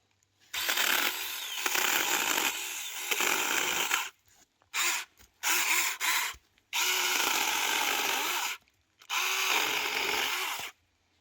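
Saker 4-inch mini chainsaw cutting a tree limb: a loud, close, rasping motor whine in several bursts of one to three seconds, separated by brief silences and a few quick blips.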